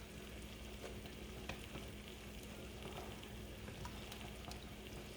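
Eggs and potatoes being stirred together in a hot pan for a spicy Spanish potato omelet, a steady low sizzle running throughout with a few soft scraping stirs, fairly quiet and with no talking.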